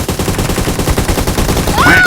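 Rapid bursts of gunfire from the mobile battle-royale game PUBG Mobile, loud and dense with a quick repeating rhythm, ending in a rising electronic tone.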